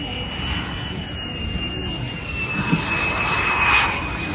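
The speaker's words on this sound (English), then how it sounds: "As that 2 OCU F-35 rolls out." A 2 OCU F-35 fighter jet rolls out at Avalon Airshow, its engine producing a steady, loud roar with a high whine on top that swells slightly toward the end.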